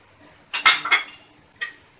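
Metal spoon scraping and clinking in a pan as turmeric powder is stirred into cooking poha, a few quick close scrapes followed by one softer knock, with no talk.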